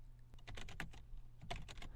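Fingers tap quickly on a computer keyboard, entering keywords in bursts of clicky keystrokes with a short pause in the middle, close and fairly quiet over a low background hum.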